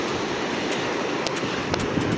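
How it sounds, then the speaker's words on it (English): Steady broadband roar of sea waves washing onto a beach, continuous and fairly loud with faint crests breaking through, no talk. "Y'all can't see the water, but you can hear it"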